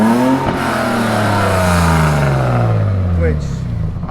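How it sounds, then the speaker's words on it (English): A Toyota Land Cruiser 80 Series engine drones through its exhaust, a loud, close rumble whose pitch slowly sags and then climbs again, running continuously throughout. "So as you can hear, it's got a bit of an exhaust"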